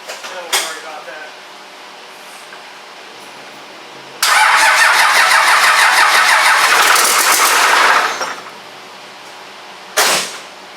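A Cummins diesel engine cranks for its first fire-up attempt: a few seconds of loud whirring starter churning, then a stop, with short bursts of speech before and after.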